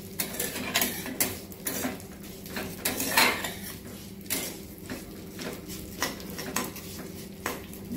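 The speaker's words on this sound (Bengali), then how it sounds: "একটু নেড়ে নেব" Vermicelli stirred in ghee in a pan for festive payesh, gentle repeated scraping and metallic clinks of a spoon against the pan, close and moderately quiet, with a faint background hum.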